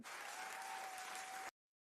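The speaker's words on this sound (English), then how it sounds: "Here's your applause, man." Brief burst of applause on a sports talk show during NFL Draft coverage, a short dense clatter of clapping that cuts off abruptly, with a faint steady tone underneath.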